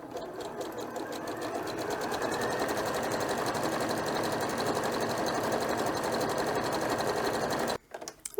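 Sewing machine stitching reusable scrubbing pads, a rapid even needle chatter running steadily and fairly close for several seconds before stopping abruptly near the end.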